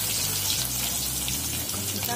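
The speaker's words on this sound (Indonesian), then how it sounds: "Kita jegurkan dulu, kita goreng dulu." Pieces of tempe fry in a wok of hot oil, giving a continuous loud sizzling hiss over a low, steady hum.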